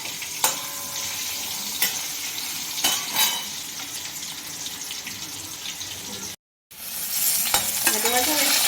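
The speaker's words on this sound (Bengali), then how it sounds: "ভাজা ভাজা হচ্ছে" Food sizzling in a pan as it is stirred, a continuous close hiss with intermittent scraping knocks, a brief cut to silence near the end before the frying resumes.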